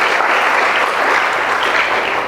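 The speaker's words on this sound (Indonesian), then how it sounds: "berikan sorak-sorai buat Tuhan." A church congregation cheers and applauds in praise of God during a sermon, a steady dense wash of clapping and voices, loud and close throughout.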